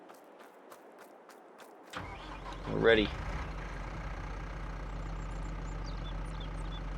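A tractor engine in Farming Simulator cranks to life with a rising rev, then settles into a steady, loud low idle, while a voice talks briefly over it.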